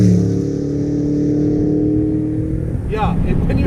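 A 2003 Ford Mustang Cobra engine roaring loudly as it accelerates hard, a strong sustained drone that shifts near the end, with people talking excitedly over it.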